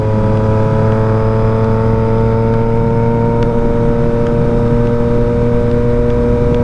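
A Yamaha MT-09 motorcycle accelerating at sunset, engine droning loud and steady with a slowly climbing pitch close to the rider, with no talk over it.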